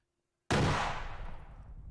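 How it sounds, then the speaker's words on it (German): A single loud weapon shot in a military video game bursts in sharply and leaves a long, rumbling tail that slowly fades, with no talk over it. "Ich schieße."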